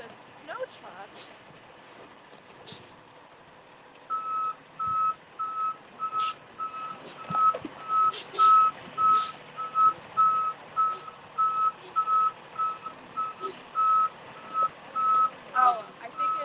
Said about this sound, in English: It's a snow truck.